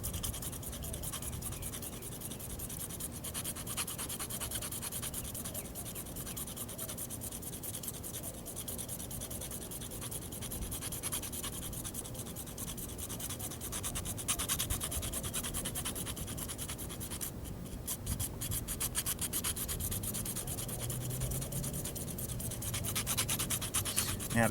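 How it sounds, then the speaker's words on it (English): A metal file rasps steadily against a magnesium bar, shaving off fire-starting flakes in continuous close, rough scraping strokes that run throughout with no talking. "The file allows me to get more magnesium shaved off the bar in a much less time than that little hacksaw blade."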